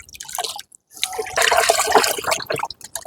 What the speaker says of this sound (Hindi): तो 10 ml के करीब मैंने इसमें मिला दिया है इसको 5 लीटर के पानी में।